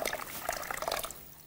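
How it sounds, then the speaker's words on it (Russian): Hot water pouring from a kettle into a basin for a foot soak, a short, close, bubbling trickle that tapers off after about a second. "Поэтому мы добавим горячей воды из чайника."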